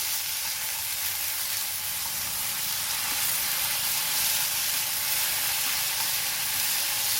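Kale with crispy pork stir-frying over a camp stove outdoors, a steady broadband sizzle and hiss running unbroken throughout, fairly soft and even with faint stirring beneath.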